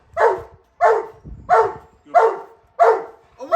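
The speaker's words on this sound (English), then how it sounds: "The dog must, bark, intimidate the intruder and keep him from acting out." A Rottweiler barks at an intruder during a staged home-invasion drill, six deep, forceful barks at an even rhythm, close and loud with short gaps between them.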